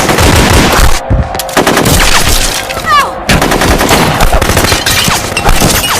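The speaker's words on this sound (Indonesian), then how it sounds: "terjadilah aksi baku tembak yang sangat epik" An intense gunfire shootout in a film, with loud machine-gun bursts and rapid shots rattling almost continuously, broken by a couple of brief pauses.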